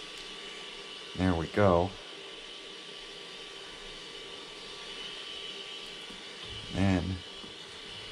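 A heat gun blows hot air in a steady, broad hiss that runs through the whole stretch, with a person speaking briefly over it near the start and again near the end.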